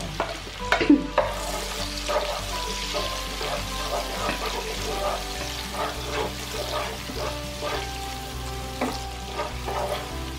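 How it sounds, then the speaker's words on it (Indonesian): Sliced chili peppers stir-fried in hot oil give a steady sizzle broken by repeated scrapes and clacks of a spatula against the pan, close and fairly loud throughout, with no talking. "Kita tumis hingga cabai irisnya layu."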